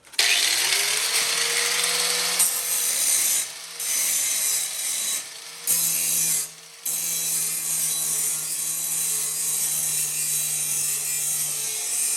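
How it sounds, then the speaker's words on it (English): A grinder working down metal near the door handle of a Nissan S13 drift car, a loud, harsh continuous whine as the tool spins up, with a few brief dips when it lifts off the panel. "I'm just going to grind this down a little bit"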